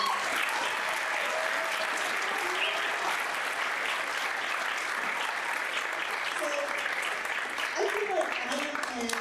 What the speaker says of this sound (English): Can we give a round of applause to Mr. Lefebvre?